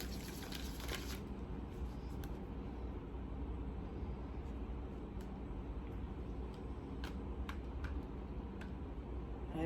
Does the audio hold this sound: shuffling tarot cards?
yes